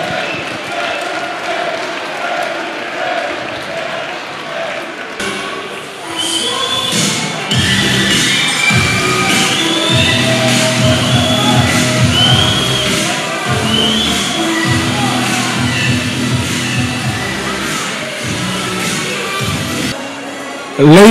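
A crowd applauds both boxers after a fight, a sustained wash of clapping and cheering at moderate distance that swells after a quieter start and carries on steadily under an announcer's voice.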